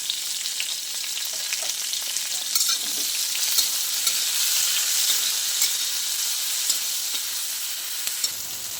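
Poppy seed paste ground with green chillies frying in a pan, a loud, continuous hiss of sizzling with a steady stirring scrape close by.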